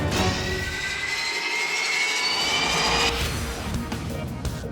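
A Life Flight medical jet roars steadily at close range, a broad sustained engine rush with a high whine threading through it, briefly shifting in tone partway through.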